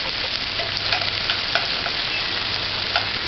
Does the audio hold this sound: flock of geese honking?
no